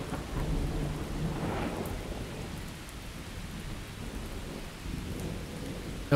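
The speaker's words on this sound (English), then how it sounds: "But man, this storm..." A thunderstorm in the survival game Miscreated sounds as a steady, heavy wash of rain with a low thundery rumble swelling near the start, continuous and fairly loud, with no voices.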